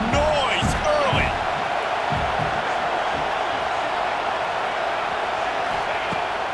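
Stadium crowd roaring in EA Sports College Football 26, a dense, constant wash of crowd noise with a few louder whoops early on.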